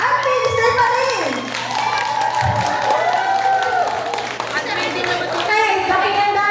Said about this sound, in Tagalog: Pinakamalakas ang sigaw at palakpak, yun ang pipiliin natin